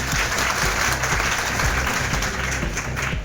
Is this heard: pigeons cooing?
no